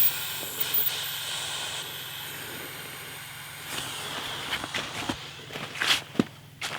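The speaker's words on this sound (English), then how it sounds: "right here is the air valve, and all we got to do is open this up" Air hisses softly and steadily through the open valve of a self-inflating sleeping pad, with occasional rustles and handling bumps nearby.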